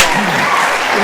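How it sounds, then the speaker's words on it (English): Hands clap in a dense, continuous patter that sounds like a small round of applause, loud and close for about a second. "I'm clapping too"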